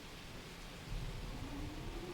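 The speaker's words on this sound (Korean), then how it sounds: "Look at this rain." Steady rain hisses across a video game scene set in Hawaii, with a low rumble of thunder swelling in partway through and lingering beneath the downpour.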